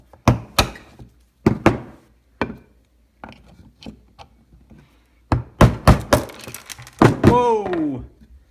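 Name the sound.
tapping a bearing out of a Nutribullet with a screwdriver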